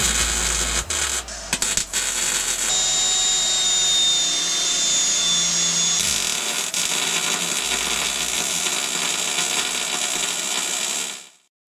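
Metal tabs being tack welded onto a Predator 420 go-kart frame: a few short crackling bursts, then a long, loud, sustained buzzing weld that stops abruptly, with no talking.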